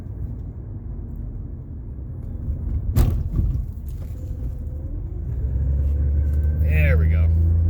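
Car cruising down the Las Vegas Strip, a steady low engine and road rumble throughout with a sharp knock near the middle, while people talk over the drive.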